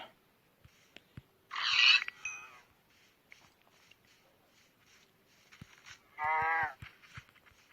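A Minecraft cow moos twice in a farm scene, short separate calls, with light footstep-like taps in between and no talk.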